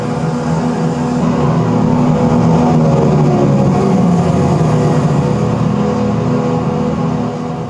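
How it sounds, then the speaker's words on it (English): A broad, steady engine roar holds at a constant loud level for several seconds, standing in for an aircraft engine failing and spinning down just after gear retraction, with no clear drop in pitch. "that is the sound of an engine spinning down. It's supposed to connote that there's an engine fail."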